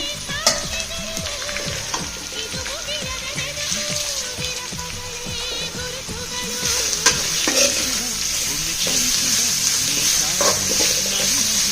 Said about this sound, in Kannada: ಈರುಳ್ಳಿ ಸ್ವಲ್ಪ ಕೆಂಪಾಗಿದೆ ಈಗ ಮಾವಿನಕಾಯಿ ತುರಿನ ಹಾಕ್ತಾಯಿದ್ದೀನಿ